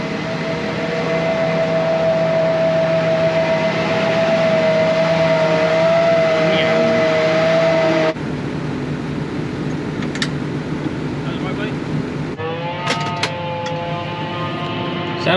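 Forage harvester cutting silage grass, a loud continuous engine drone with a steady high whine, shifting in tone partway through and joined by clicks and higher mechanical tones near the end, close to the machine with no talk.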